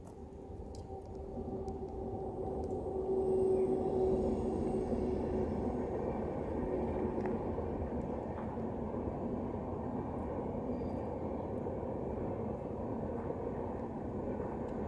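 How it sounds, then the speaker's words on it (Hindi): A steady low rumble of a train rolling past a few metres away in the Satpura jungle near Betul, with a faint high whine over the continuous rattle and no voices. "यहाँ बहुत पास में कुछ ही मीटर सामने से ट्रेन गुजर रही है।"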